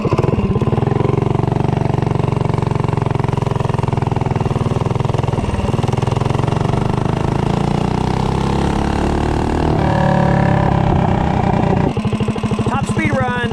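A motorcycle fitted with a Mikuni VM22 carburetor and stock intake makes a top speed run, its engine droning loud and steady with rising revs, wind buffeting over it, and a voice speaking partway through.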